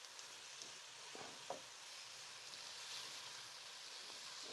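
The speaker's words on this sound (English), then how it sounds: "add in your liver. So toss that around" Beef liver sizzles and hisses steadily in a hot pan with garlic, a few faint clicks and scrapes as the pieces are tossed, moderately quiet and without talk.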